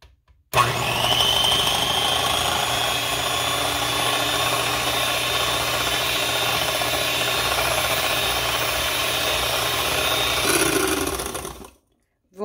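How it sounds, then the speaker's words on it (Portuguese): An electric mixer beats chocolate banana cake batter with a steady, loud, continuous whir that runs unbroken for about eleven seconds before cutting off abruptly. "Hoje eu vou estar usando a batedeira, mas se você não tiver, pode bater tudo na mão."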